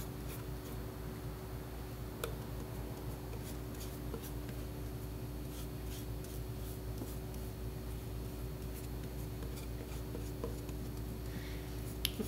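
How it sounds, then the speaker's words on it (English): A brush spreads thick acrylic medium onto a panel with a continuous soft rasping scrub, close and fairly quiet, with faint taps here and there over a steady low background hum. "I'm painting in the area that I'm pretty sure the paper is going to go."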